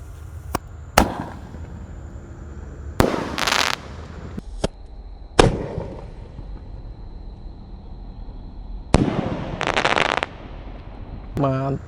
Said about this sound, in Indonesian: Ini Raja Wali Roman Candle guys yang akan kita nyalakan.